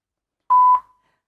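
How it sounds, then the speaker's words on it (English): A single electronic test beep marking the start of a standing balance test in a concussion assessment, one clean steady tone lasting about a third of a second, then silence. "from the first to the second beep"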